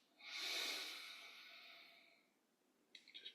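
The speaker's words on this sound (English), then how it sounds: "Just breathing in through the nose and out through the nose, listening to the breath" One slow, airy breath passes in and out through the nose during a yoga session, a soft, close hiss that swells and then fades, followed by a couple of short sniffing puffs at the end, with no talking.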